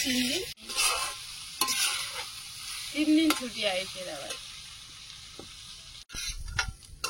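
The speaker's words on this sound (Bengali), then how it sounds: "উচ্ছে আর আলুটা যতদূর ভাজা হয়েছে মোটামুটি হয়েছে" Bitter gourd and potato slices fry in a pan with soft sizzling and intermittent stirring scrapes, while people talk nearby over the cooking.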